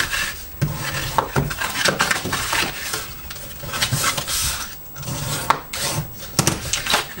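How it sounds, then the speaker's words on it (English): Scored cardstock being folded along its score lines for a decorative paper bag, giving close, dry rubbing and creasing sounds with soft papery rustles and occasional sharper crinkles, steady throughout with no talking. "So fold up these score lines."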